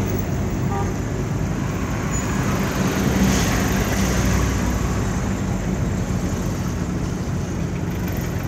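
Steady road traffic rumble fills a busy evening car park in Gambia where taxis gather, a constant broadband wash of engines with a faint passing vehicle swell midway.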